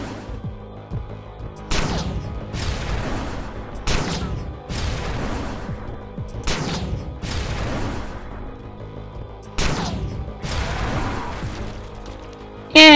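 A rocket fired from an upgraded rifle in a zombie video game, heard as a series of loud, close blasts and rumbling explosions, about six bursts spaced a second or two apart, each with a long crackling decay.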